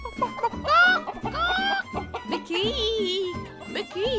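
Mrs. Chicken, a cartoon hen from Peppa Pig, gives several squawky clucks in short voiced bursts, mixed with bright cartoon chatter and a sustained tonal note near the end.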